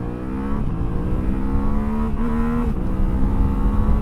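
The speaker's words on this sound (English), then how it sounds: "Let's see how fast the Tenere is, eh? From a standstill." Yamaha Tenere World Raid adventure motorcycle pulling away from a standstill, its engine note climbing steadily through the revs with a brief dip at a gear change, close and fairly loud.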